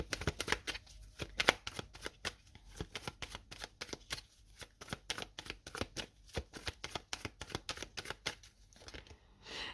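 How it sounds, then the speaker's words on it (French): Tarot cards are handled and shuffled up close, giving a quick, steady run of crisp flicking and slapping riffles that continues without pause. "On va mettre une carte encore dessus."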